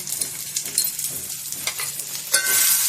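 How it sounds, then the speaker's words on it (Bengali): Chicken curry frying in a pan with ground turmeric, chilli, cumin and coriander powder, a constant close sizzle with scattered stirring scrapes, growing brighter and more intense toward the end. "ভালো করে কষে নেব।"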